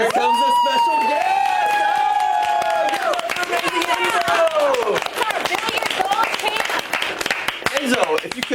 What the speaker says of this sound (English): I heard we had applause over here